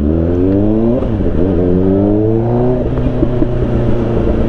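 A sportbike fitted with an IXIL exhaust revs hard and close, its engine note climbing and dropping through repeated throttle blips in a loud, continuous roar.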